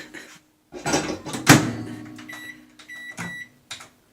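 A microwave door clunks open and shut with a few sharp knocks, followed by short electronic beeps from the keypad.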